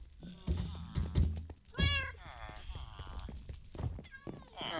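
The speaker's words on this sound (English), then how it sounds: "that's my cat. I think he's trapped in the compost bin." Cat meowing from inside a compost bin in the Minecraft video game, several rising and falling meows repeating close and clear, with a voice talking over them.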